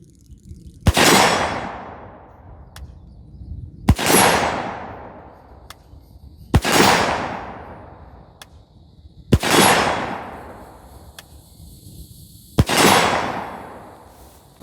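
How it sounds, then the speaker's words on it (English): Five sharp rifle shots from a Ruger Mini 14 fired at steel plates, evenly spaced about three seconds apart, each a loud crack with a fading echo and faint distant pings between. "I'm going to shoot a 5-shot group on one of these steel plates."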